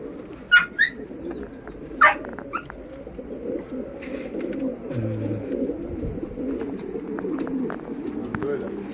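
Flight pigeons, all male, coo softly in an enclosed loft of about four hundred birds, with a few sharp bird calls and low murmuring voices nearby.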